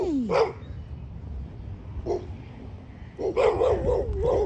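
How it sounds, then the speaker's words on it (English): Puppies bark and yip in several short high-pitched bursts, with a whimpering note at the start and a cluster of rapid yaps near the end, close and clear over faint background noise. "there's some puppies"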